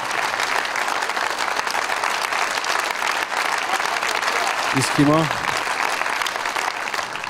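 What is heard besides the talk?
audience applause at a concert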